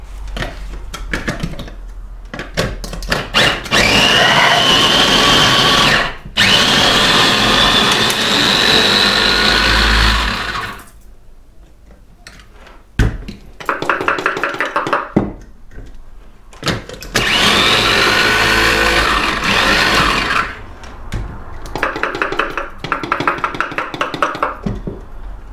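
Chilli tadka for homemade chilli cheese whirring in an electric mixer grinder: three long, loud, steady motor bursts separated by short pauses, with clattering and handling noise between runs.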